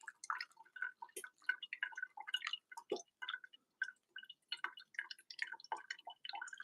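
Water trickles and drips through a V60 pour-over coffee bed in quick, irregular droplets and small splashes, close and fairly quiet, with no talking.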